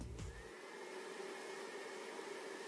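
A UNIC UC46 projector runs just after start-up with a faint, steady fan hiss and a thin constant whine, alone at low level after a brief click at the start.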